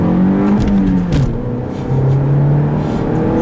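A 2016 Scion iM with a manual gearbox and a 1.8-liter naturally aspirated four-cylinder engine accelerates hard from the cabin. The engine drone climbs steadily, dips briefly during a shift, then rises again, loud and continuous.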